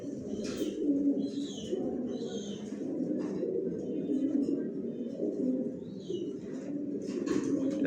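Racing pigeons of the Janssen line coo in their loft. Many low, rolling coos overlap continuously at close range, with occasional higher chirps and faint wing sounds.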